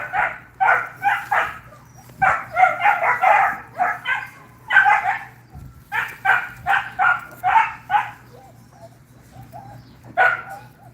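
Several dogs bark in repeated bursts of sharp yips and barks, loud and close, with short pauses between volleys and a faint steady hum underneath.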